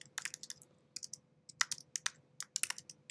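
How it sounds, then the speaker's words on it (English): Keystrokes on a computer keyboard, typed in quick bursts of sharp clicks with short pauses between them, close and fairly quiet over a faint steady hum. "So if I start typing"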